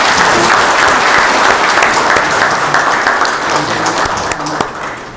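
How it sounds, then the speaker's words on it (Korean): Audience applause at a forum held in a National Assembly members' hall, loud, steady and dense clapping from a large crowd throughout, easing only slightly toward the end. "박수 한번 보내주시죠."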